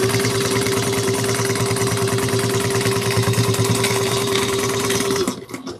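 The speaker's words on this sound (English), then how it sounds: "we're going to top stitch on the middle panel, 1/8 of an inch" A sewing machine runs top stitching along the middle panel of a fold-over cross-body bag, a fast, even mechanical whir held steady for about five seconds before it stops abruptly.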